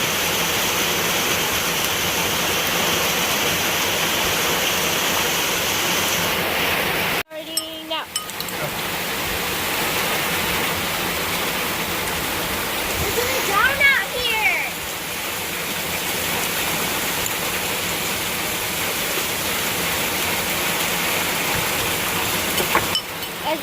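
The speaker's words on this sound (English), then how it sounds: "as you guys can see, it's pouring really hard" Heavy rain pours outdoors in a backyard where ribs are being barbecued, a dense continuous roar with a sharp cut partway through and faint voices mixed in.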